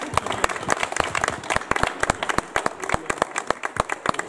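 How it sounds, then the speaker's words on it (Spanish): Applause from an audience gathered for a talk in Colungo, many hands clapping in a dense, irregular patter with sharp individual claps standing out, fairly close and sustained throughout. "Un aplauso para él por parte de todos"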